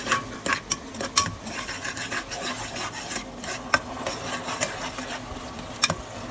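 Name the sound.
stirring spices into frying tomato and onion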